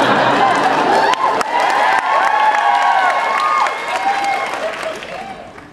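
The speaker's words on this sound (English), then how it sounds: "A little bit of clap." Audience applause and cheering from a crowded Comic Con 2010 panel hall, loud steady clapping with shouts and whoops on top, thinning slightly toward the end.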